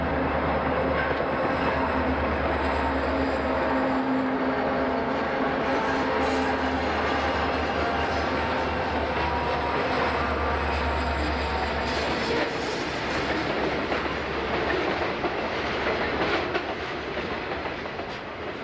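Blue C&O and L&N freight diesel locomotives labour up a steep grade with a loud, sustained low engine drone. Wheels clickety-clack and rumble steadily beneath it as the train passes close by.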